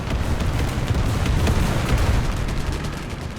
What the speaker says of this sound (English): Friendly AAs are shooting at nothing.